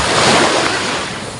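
Sea surf washing steadily onto a beach, a dense, continuous roar of breaking waves that stays loud throughout with some wind rush.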